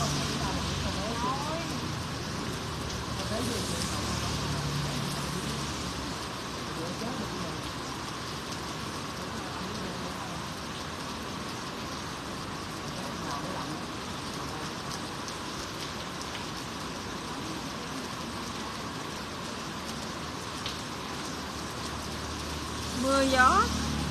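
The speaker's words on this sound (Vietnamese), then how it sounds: "Mưa gió" Rain and wind keep up a steady broadband hiss throughout, with a faint low rumble underneath and a brief louder clatter near the end.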